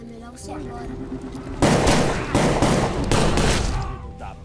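Gunshots ring out as a sound effect in a Brazilian gangster crime story, two sharp loud blasts after a quieter stretch with a faint voice, each followed by a ringing decay.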